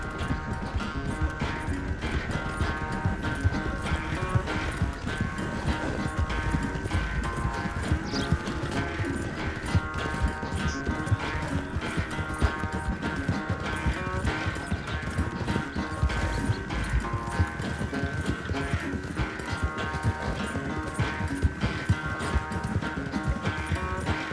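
Hoofbeats of a horse galloping in a race in the video game Red Dead Redemption 2, a steady, dense clip-clop rhythm running throughout over game music and ambience, with no one speaking.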